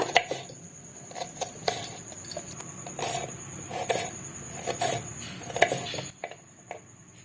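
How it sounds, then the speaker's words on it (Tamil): A knife taps steadily against a cutting board as small shallots are sliced, a quick series of close, crisp chops with no talking. "இப்போ நம்ம உரிச்சு வச்சிருந்த பொடி வெங்காயத்தை ஸ்லைஸ் பண்ணிக்கலாம்."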